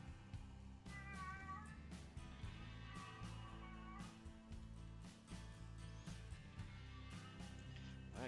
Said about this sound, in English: That crazy noise is my cat.